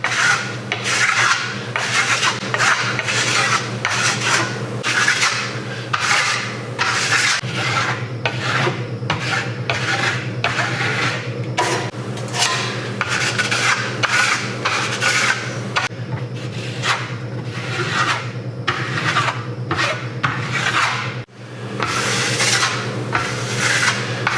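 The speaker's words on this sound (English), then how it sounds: "I'm going to do what's called burnishing it, which I'll heat up the surface of it with another trowel" A steel trowel burnishes Variance, a Venetian plaster alternative, over a wall surface with rapid, repeated rasping strokes, close and steady, each scrape short and rhythmic, with one brief pause near the end.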